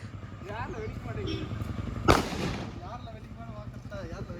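A Diwali firecracker goes off with a single sharp, loud bang midway, its crack trailing off quickly while family and friends keep chatting around it.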